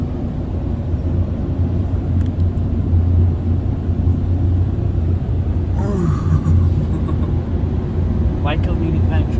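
Ryko Softgloss XS2 automatic car wash running, a steady low rumbling drone of machinery and water heard from inside the car, with brief higher swishes from brushes and voices talking over it.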